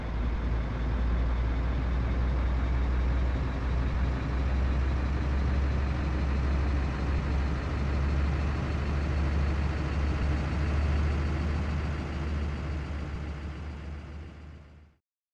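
A truck engine in Euro Truck Simulator rumbles with a deep, steady idle-like drone, loud and constant, before fading out at the end.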